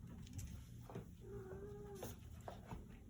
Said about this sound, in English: my kitty is making sounds in the background, if you can hear that